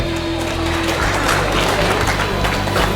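A football stadium crowd at a Thai Omsin League 2020-21 match between Wat Bot City and Chiang Rai Lanna applauds a player, a steady dense wash of clapping and crowd noise filling the whole stretch.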